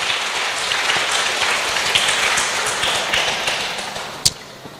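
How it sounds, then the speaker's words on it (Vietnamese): A church congregation breaks into applause during a sermon, dense clapping from many hands sustained at a steady level, with one sharper tap near the end. "Hãy vỗ tay cảm tạ Đức Chúa Trời"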